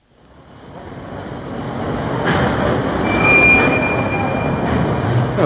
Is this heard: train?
yes